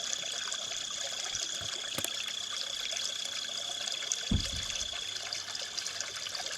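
Chinquapin Run, a small urban river in Baltimore, trickles and burbles steadily outdoors, a continuous close wash of flowing water with a faint high tone and one low thump.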